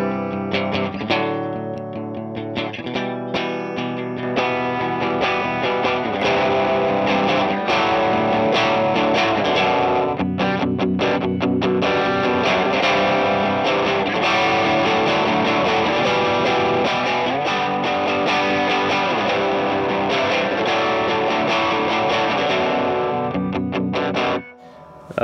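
Electric guitar played through a six-pedal indie rock pedalboard with punchy distortion and some chorus, strummed chords and riffs ringing continuously, loud and close, with no talking.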